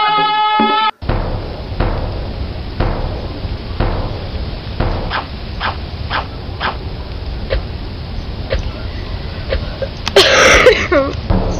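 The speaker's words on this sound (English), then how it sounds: "Excuse my coughing, I'm sorry" Repeated short, sharp coughs scattered through the clip, some in quick pairs, loud and close over a steady background hum.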